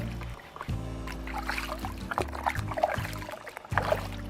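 A three-legged parsnip is washed by hand in water, with sloshing, trickling and rubbing sounds over a low background rumble, close and fairly quiet throughout.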